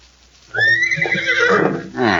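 Horse neighing as an old-time radio drama sound effect: a single loud, close whinny lasting about a second and a half, with a quick snort at the end.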